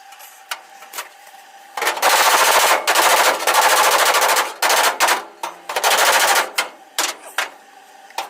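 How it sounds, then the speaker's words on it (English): A welder lays stitch and plug welds on a car exhaust, giving loud, crackling buzzy bursts of a second or so each, separated by short gaps, nearby and without talk. "We're going to do another stitch weld and plug weld"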